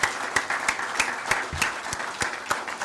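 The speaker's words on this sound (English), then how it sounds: "Keep clapping, keep clapping." An audience at a New Orleans mosque claps continuously, a dense crowd applause with sharper hand-clap accents repeating roughly every third of a second, close and steady with no speech.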